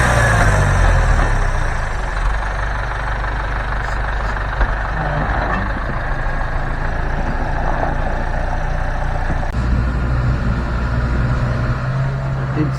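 A Ford 7610 tractor labours while pulling a tank, its diesel engine droning loud and near with a heavy, uneven load, the tone shifting and deepening near the end.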